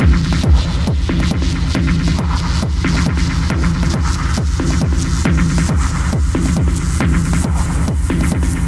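A techno kick drum runs through an active compressor, thumping in a rapid, steady pulse, loud and alone under a constant low throbbing body.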